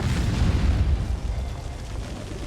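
An underwater vault is blown up in Conan Exiles, a deep muffled boom that swells and rumbles for a couple of seconds before slowly fading.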